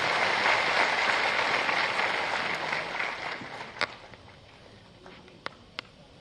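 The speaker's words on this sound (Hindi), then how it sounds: "आप सबकी जोरदार तालियों के प्रणाम के साथ" Crowd applause at a Lucknow workshop on cow-based natural farming, a broad steady wash of clapping that gradually fades over several seconds, with a few sharp isolated claps near the end.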